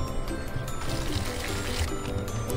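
Water poured onto a potted plant, a steady close trickle and splash running without a break for a couple of seconds, with no voices.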